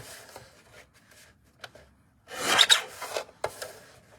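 Scissors trimming Stamperia Furry Friends craft paper, a few quiet snips followed by a denser rasping burst of cutting and paper rustle, close and alone without talk.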